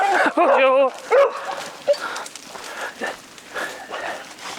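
A dog whines in a wavering, high whimper and then gives short barks close by during an outdoor walk. People talk over and between the sounds.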